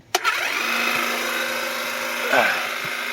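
A Vevor hydraulic jack is lowered: a sharp click starts a steady mechanical whine that holds level, wavers and swells briefly before easing off, close and fairly loud.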